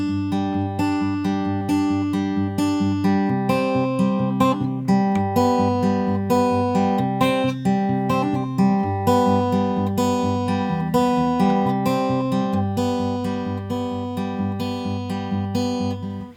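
Fingerpicked acoustic guitar in standard tuning plays the intro of a song, with bright plucked notes over a repeating bass pattern, steady and close, no voice.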